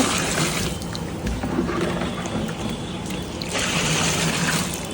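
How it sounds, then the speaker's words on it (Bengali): Mutton biryani juice being poured into a cooking pot, a continuous close, loud watery gush that swells again near the end, with no talking. "বিরিয়ানির যে জুসটা আমি ঢেলে দিচ্ছি"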